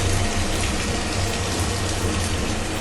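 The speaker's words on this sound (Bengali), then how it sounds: "এরপর আমি এই মশলা ধোয়া জলটা দিয়ে দেবো" Spice-rinsing water pours steadily into a pan of frying okra cooked with coconut, a continuous close rushing gush with no voices.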